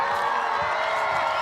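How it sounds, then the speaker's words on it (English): Audience at a high school Veterans Day assembly applauding and cheering for three students, a steady dense roar of clapping and whoops filling a large room throughout. "let's give our 3 students a loud round of applause"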